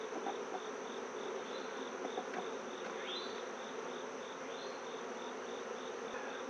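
Honeybees in an open hive hum in a steady, dense drone close by, with a faint repeating high chirp running alongside and no speech.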